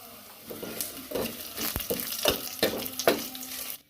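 Crushed garlic and curry leaves frying in hot oil for a Kerala-style curry, a steady crackling sizzle broken by several sharp stirring scrapes and clinks against the pan, close by and with no talking.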